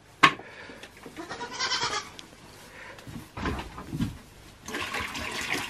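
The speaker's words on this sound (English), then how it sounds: "you want to pour their water in?" Water poured into a livestock water trough, gushing and splashing in bursts at close range, with goats bleating nearby over the pouring.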